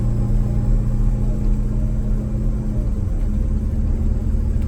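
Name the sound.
bus engine accelerating hard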